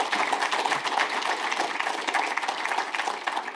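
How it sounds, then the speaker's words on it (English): Conference audience applauding, a dense, steady wash of many hands clapping in a large hall, continuous and even throughout without any speech. "Big round of applause for Jan."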